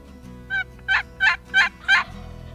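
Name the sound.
wild turkey gobbling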